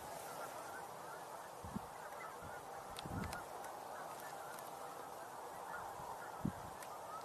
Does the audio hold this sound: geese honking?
yes